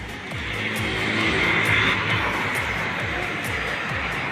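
Fast vehicles speed past on a highway at night, producing a loud, continuous rushing roar of traffic with a swell in the middle and no clear gaps between passes.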